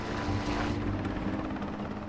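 A Black Hawk helicopter in flight gives a loud, continuous rotor roar with a fast, pulsing chop.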